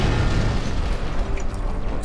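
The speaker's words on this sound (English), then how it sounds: "Explosions." A deep, rumbling explosion in the video game Deus Ex: Human Revolution roars loudly, its low boom filling the moment and slowly tailing off with crackling debris.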